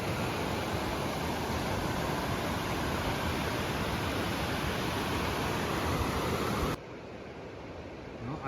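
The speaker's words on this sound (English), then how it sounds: "Right down beside the river." A river flows beside a backcountry trail near Goodsir Pass, a steady loud broadband rush that drops noticeably quieter near the end, no voices.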